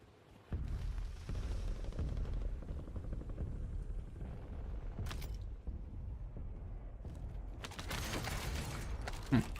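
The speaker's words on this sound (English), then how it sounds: "Someone's shooting him from the left." Gunfire and combat noise in the video game Call of Duty, with sustained rumbling and mechanical din and sharp bursts near the end. An airstrike is nearby.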